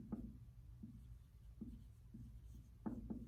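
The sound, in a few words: writing on a board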